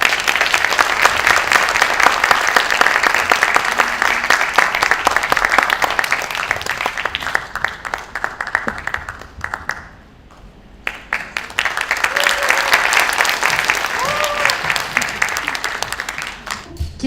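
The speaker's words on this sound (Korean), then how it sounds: "두 분 올라오시도록 박수 보내주세요." An audience at an education talk concert applauds to welcome two guests onto the stage, producing loud, sustained clapping that briefly dies away before swelling again, with a voice speaking over it near the end.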